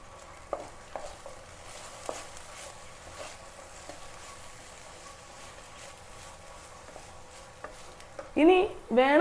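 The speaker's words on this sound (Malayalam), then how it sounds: "എന്നിട്ട് നല്ലപോലെ മിക്സ് ചെയ്യാം." Food being stirred and mixed in a home cooking pan, soft scrapes and light taps spread sparsely and faintly, before a brief burst of voice at the end.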